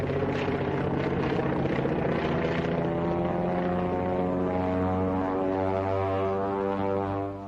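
A WWII fighter airplane at 20,000 feet going into a dive, its propeller engine droning loud and steady in layered harmonic tones that hold for several seconds before easing off.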